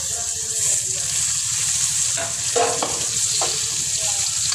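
Tomatoes go into a hot pan with onions and curry leaves for an aloo kurma, giving a steady, close sizzle of frying with a few stirring scrapes and clinks.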